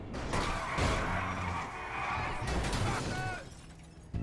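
A car in a driving video game skids and crashes, with tire screech and impact noises over sustained engine tone, followed by a brief metallic clatter and a sharp pop at the end.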